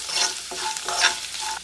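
Ingredients for mandakki chivda, a puffed-rice snack, frying and being stirred in a pan, with a steady sizzle and two or three scraping strokes of the spoon, close and alone.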